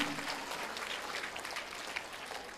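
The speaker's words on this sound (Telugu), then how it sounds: "ఒకసారి క్లాప్స్ కొట్టాలరా బాబు" Indoor audience at a Women's Day gathering claps steadily and continuously throughout, a dense, moderately loud spread of hand claps with no voices over it.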